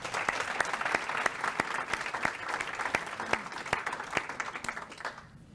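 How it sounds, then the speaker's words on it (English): An audience applauds a retiring police chief at a city address, a steady, even round of clapping from a sizable crowd that holds for several seconds before tapering off at the end. "So please, a round of applause for John."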